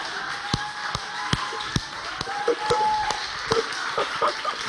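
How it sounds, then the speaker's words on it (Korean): A church congregation claps in a steady rhythm, sharp even claps about twice a second, over music playing during a lively worship service. "박수."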